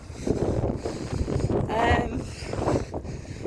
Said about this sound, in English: It's really windy this morning.